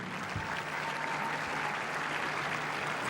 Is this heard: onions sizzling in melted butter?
no